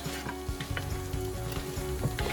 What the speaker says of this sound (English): Now we're just gonna get a little bit of sweat on these, let them get a little soft, and just cook through this real quick